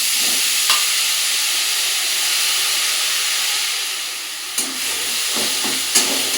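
Coconut, khoya and jaggery filling cooks in a wok with a steady, fairly loud hiss and sizzle, broken by a few sharp scrapes of stirring near the end, no speech.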